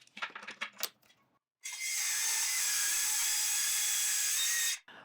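A saw cuts two steel blanks from a metal strip against a stop, giving a steady, bright, grinding rasp for about three seconds after a few brief clicks and taps, with no talking.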